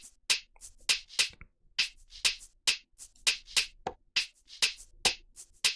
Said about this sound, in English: then another clap just to support the main pattern